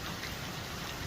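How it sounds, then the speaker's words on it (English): Steady rain falls outdoors in the Sonoran desert, a dense, even hiss of drops with no pauses, soft and continuous. "It does rain out here."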